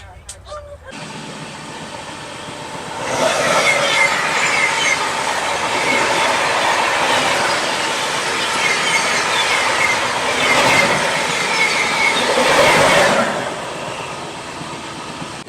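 A Rajdhani Express rolls along the rails as heard from inside a 3rd AC coach: a steady rumble swells after a quiet start into loud clickety-clack and wheel noise with occasional squeal, running continuously before easing near the end.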